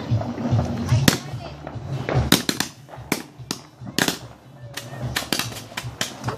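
A string of a hundred firecrackers crackles in rapid irregular pops and sharp bangs, fairly close, mixed with people talking and voices over the bursts.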